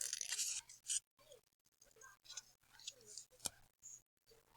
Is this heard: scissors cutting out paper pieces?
yes